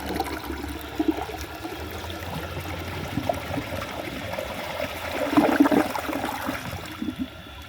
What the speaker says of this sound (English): and then I'll give it another flush.